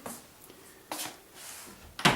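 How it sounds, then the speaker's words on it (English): A homemade cherry wood door, milled from a felled tree, is opened with a few soft wooden knocks and a sharper clack at the end, close and quiet, with no talk. "You open the door up"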